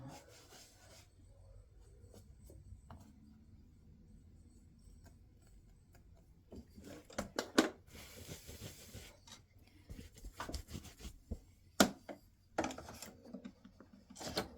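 An embroidery machine stitching free standing lace for Valentine heart earrings: quiet rubbing and ticking at first, then bursts of rapid mechanical stitching noise in uneven runs, close by, with no talking.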